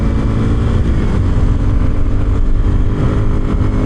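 A 2026 Kawasaki KLX 230 Sherpa S dual sport motorcycle with a small, new, not yet broken-in engine runs loud and close, a steady throbbing engine note holding near one pitch throughout with no voices.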